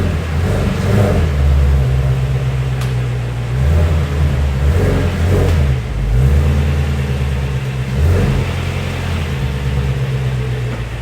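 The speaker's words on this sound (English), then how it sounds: "let's get the other ramp under the front and drive up on these just to see what it looks like" A Ford Mustang GT350 creeps up onto homemade scrap-wood ramps, its engine rumbling loud and close with steady low idle pulses and gentle rises in revs throughout.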